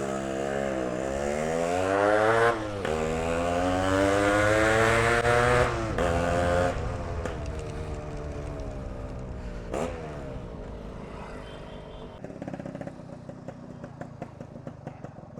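A modified Yamaha RX-Z two-stroke motorcycle revs hard and loud nearby, its pitch climbing and dropping through several sharp throttle blips before settling into a rough, crackling idle.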